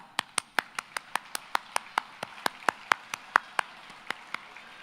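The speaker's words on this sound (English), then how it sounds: "So at this moment, I would like for us to applaud them." Hands clap for nursing school staff at a Cleveland State nursing pinning ceremony, a quiet, sparse run of about twenty distinct claps in a loose, steady rhythm.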